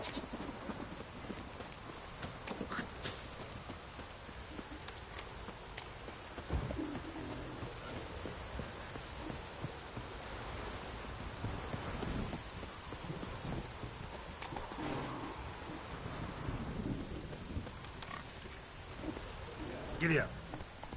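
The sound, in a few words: heavy rain downpour and thunder in a video game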